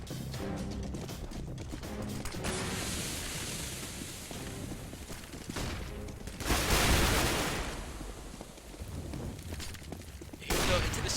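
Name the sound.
gunfire in Counter-Strike video game, M16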